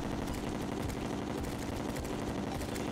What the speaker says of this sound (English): I might be able to just start shooting like in like 3 seconds here